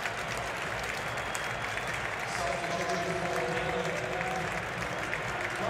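Stadium crowd at an England vs Germany international football match applauding steadily as England's Tammy Abraham is substituted off, a broad continuous wash of clapping and crowd noise under a commentator's voice.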